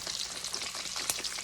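Sausage gravy whisked in bacon fat in a pan, a bright continuous crackling sizzle with quick light whisk strokes scraping through it, close and steady.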